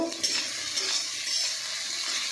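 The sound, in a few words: ginger, garlic and onion frying in a pan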